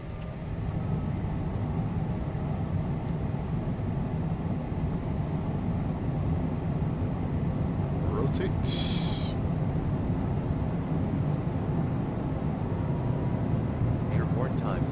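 A Working Title CJ4 business jet rolls for takeoff in Microsoft Flight Simulator, a steady, loud, continuous engine roar and rumble that holds level throughout, with a brief higher hiss partway through.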